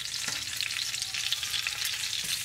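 Bacon fries in a pan, crackling and spitting with a dense, close sizzle at a steady moderate level, with a few faint scrapes mixed in.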